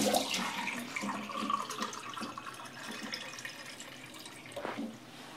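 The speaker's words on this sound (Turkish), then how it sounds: "ve su ilave edeceğim." Water poured into a red cabbage pickle mixture with salt, sugar, citric acid and vinegar, a faint continuous splashing and trickling with a brief louder gush near the end.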